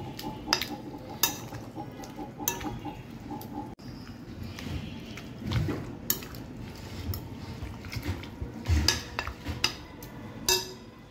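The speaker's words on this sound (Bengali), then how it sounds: "এখন একটি চামচ দিয়ে এটাকে খুব ভালো করে মিক্স করে নিচ্ছি" A spoon mixes chicken pieces with tandoori masala for shashlik kebab in a bowl, giving soft wet squelches and intermittent light clinks of the spoon against the bowl, close and fairly quiet, with no one talking.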